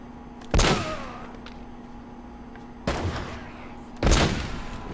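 Three loud gunshot bursts from an assault rifle in the Uncharted: Drake's Fortune video game, spaced irregularly with brief decaying tails over a steady background hum.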